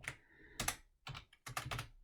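Keys clacking on a computer keyboard in bursts of quick typing, separated by short pauses, close and fairly quiet with no voices.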